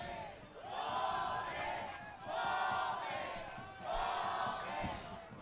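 A small crowd at an Oakland Ballers baseball game cheers and yells in rising swells, three broad surges of voices at moderate distance.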